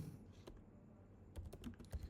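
Typing on a computer keyboard while entering terminal commands to deploy a Polygon CDK Erigon node, heard as faint scattered key taps that quicken into a close cluster of clicks toward the end, with no voices.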